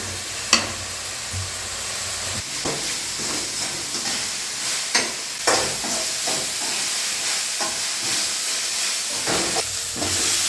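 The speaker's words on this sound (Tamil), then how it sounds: "அரைச்சி வச்ச விழுது சேர்த்து நல்லா வதக்கிக்கலாம்." A ground paste with coriander, green chilli and tomato sautés in a pan for village-style egg tikka masala, giving a steady loud sizzle and hiss broken by occasional scraping stirs and small pops.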